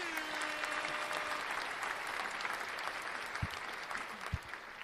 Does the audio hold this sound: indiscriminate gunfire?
no